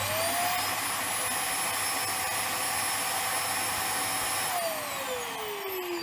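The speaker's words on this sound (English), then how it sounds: "you hear that, the main motor's working" Main motor of a plugged-in appliance running: a loud, steady high-pitched whine with a constant tone, close by, that starts to wind down near the end. No one speaks over it.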